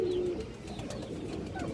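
A large red-khaki female pigeon and others coo softly and continuously in a pigeon loft, with no voices present.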